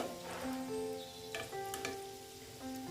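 An egg chop frying in oil, a steady close sizzle running throughout, with faint stirring scrapes.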